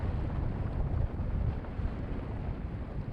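A sailboat sails into Vineyard Haven on a gray, dreary day. Wind rushes and buffets steadily and loudly against the microphone over the low wash of water, with no voices.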